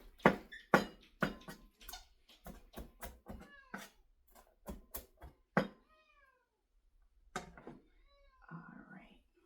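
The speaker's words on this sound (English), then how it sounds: "I know that cat is not happy, right? That cat is angry." A large 17-pound cat, angry and unhappy, near a kitchen stove, gives repeated meows and growly calls in short bursts, close and fairly faint, with soft human voice mixed in.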